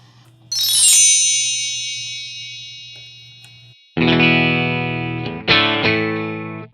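Bright, sustained notes from a Stratocaster run through a HOD Xotic SP compressor pedal: a single ringing note decaying slowly, then a chord struck with two more quick strums, each holding evenly with a long, smooth sustain.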